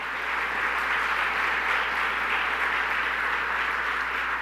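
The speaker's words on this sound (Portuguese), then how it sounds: "E você pode aplaudir o Senhor" Church congregation applause fills the space as a dense, even wash of clapping, steady and moderately loud throughout with no voices standing out.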